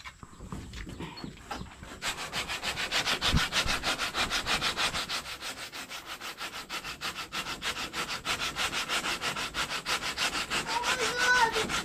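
Sandpaper is rubbed briskly back and forth over wood while building a bamboo hut, a steady rhythmic rasping that starts after a short quiet lead-in and continues loudly for about ten seconds.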